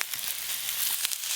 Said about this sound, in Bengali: এঁচোড় আলু খুব ভালো করে ভেজে নিয়েছি